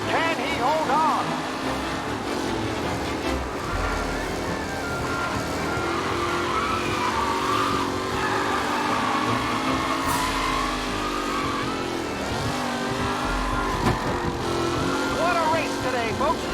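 Race cars roar and rev through a race in the video game Mafia Definitive Edition, engines droning steadily with rising and falling pitch throughout, mixed with background game sound.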